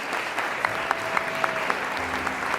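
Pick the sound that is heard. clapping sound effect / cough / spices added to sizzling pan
clapping sound effect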